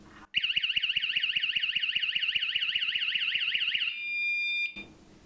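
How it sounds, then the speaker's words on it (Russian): A very cheap alarm system sounds off with a loud, rapid, warbling electronic beep that runs steadily for several seconds, then changes to a flatter tone and cuts out. "Пищит, конечно, отвратительно громко."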